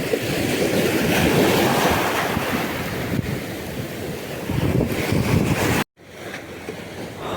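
Strong wind roars across the microphone at the seashore with surf and waves crashing behind, steady and loud throughout, briefly cutting out near the end.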